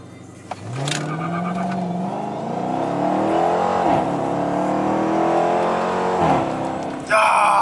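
2015 Dodge Charger R/T on 26-inch Forgiato wheels accelerating from 0 to 60, with the engine note climbing through several gear changes heard from inside the car and a short thump near the end.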